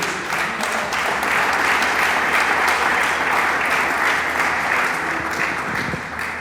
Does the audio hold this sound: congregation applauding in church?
yes